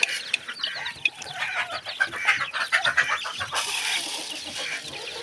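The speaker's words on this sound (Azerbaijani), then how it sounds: "Toyuqlar daraşırlar qarışqa kimi." A flock of chickens crowds around a feed dish in a backyard coop, with continuous clucking, squawks and scratching. The sound is dense, close and busy, and no talk rises above it.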